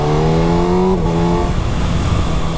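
Engine note of a 2019 Kawasaki Ninja ZX6R rises loud and near, then drops sharply as the rider shifts, leaving a steady, rough drone.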